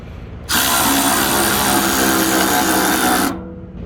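A Milwaukee M12 cordless ratchet spins a 3/4 inch bolt on a fan hub, a loud close whirring buzz that starts abruptly, runs steadily for about three seconds, then cuts off.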